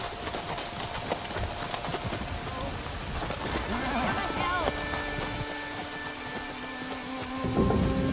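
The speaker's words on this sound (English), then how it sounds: "Abbot, Marcus, we seek shelter from the storm." A storm with heavy rain and rumbling thunder outside a medieval abbey gate, with hoofbeats clopping amid the downpour; the rain hisses steadily throughout while people talk over it.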